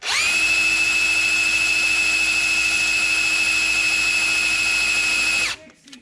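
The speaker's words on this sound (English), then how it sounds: "my drill kept skipping because it was sliding on it" A power drill whines at a steady high pitch for several seconds while drilling on an engine block for a turbo engine build, then abruptly winds down and stops near the end.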